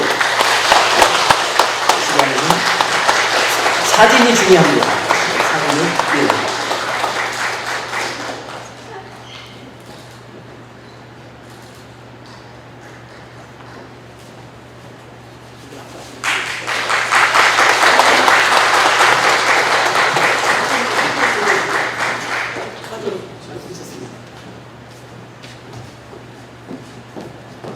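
Warm applause from a congregation at a church inauguration service for evangelism association leaders comes in two strong sustained bursts separated by a quieter stretch, with a speaker's voice over the room in between.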